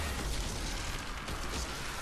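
A grenade detonates in the sci-fi shooter Destiny, fighting Hive acolytes on Earth, giving a dense, rumbling blast with a sustained noisy roar and heavy low-end that fills the whole moment without any talking.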